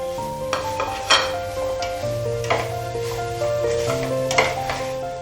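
Steady scraping and stirring of fried spices into mashed potato and paneer samosa filling in a pan, with faint clinks of utensil against metal over a soft background tone.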